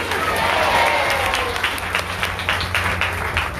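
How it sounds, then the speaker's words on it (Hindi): Loud, dense clapping from a devotional gathering's audience during a week-long Bhagavat recitation, sustained and close with a low hum underneath. "आप लोगों के लिए जोरदार ताली बजाओ जोर से।"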